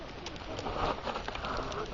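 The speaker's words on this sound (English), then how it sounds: "Tweety bird over there." Outdoors, a pigeon- or dove-like bird coos softly and somewhat distant, under steady wind or background hiss for about two seconds.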